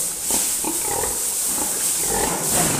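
Pigs and breeding sows on a Filipino farm grunt and snort in close, overlapping bursts throughout, with steady pen noise in the background.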